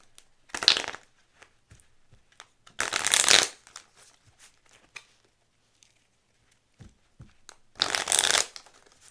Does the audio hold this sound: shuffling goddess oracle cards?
yes